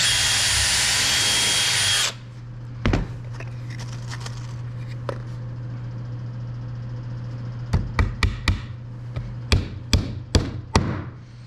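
Nails are driven into plywood during a body assembly, a handful of sharp clustered impacts near the end after a loud power tool stops, over a steady low hum, with sparse knocks in between.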